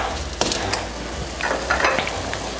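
Salted onions sautéing in a pot for lasagna soup are stirred, with a steady soft sizzle and a few scraping strokes of the spoon, close and fairly quiet, with no talk.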